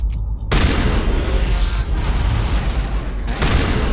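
Loud, continuous blasting and gunfire in Mass Effect combat amid snow, a heavy wall of booming shots filling the whole stretch after a sudden start.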